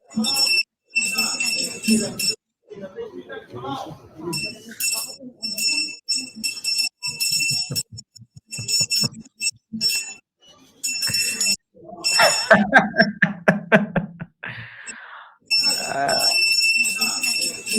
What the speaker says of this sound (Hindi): कैसे घंटियां बजाई जाती हैं